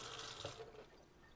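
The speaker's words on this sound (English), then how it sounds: "Let me wash my hands." Water runs from a kitchen tap over hands in a sink, a short, quiet, close-up gush that fades after a moment.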